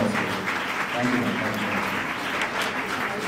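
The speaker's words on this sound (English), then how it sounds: "could you please give a big round of applause for them?" Audience applause at a student council investiture ceremony, a steady, even wash of many hands clapping at moderate volume throughout, without a break.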